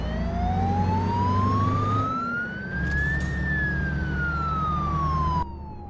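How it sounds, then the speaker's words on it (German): An ambulance siren wails behind a truck in Euro Truck Simulator 2, a loud sweeping tone that climbs steadily, peaks, then falls away over low road and engine rumble. "Und hier hinter mir ist die Polizei. Ach, Krankenwagen."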